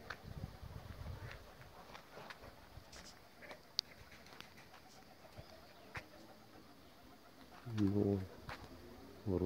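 Pigeons around a dovecote on a summer day, with soft cooing and wing flutters scattered through the scene, a louder burst of flapping near the end, and someone talking intermittently over them.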